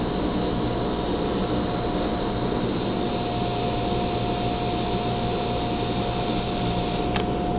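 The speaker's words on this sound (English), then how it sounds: "now that I've used this wheel to do the bulk of the polishing work" Pen button buffed on a polishing wheel, heard as a loud, constant motor whine and airy rush with a steady high tone, with no change for several seconds apart from a faint tick near the end.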